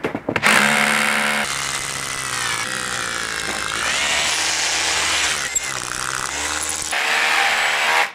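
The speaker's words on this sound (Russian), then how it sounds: "бур тот же самый, сверление с ударом" A loud cordless rotary hammer drills concrete in hammer mode, hammering and whining continuously at close range, its motor pitch dipping and rising as it bores, with a brief pause mid-way.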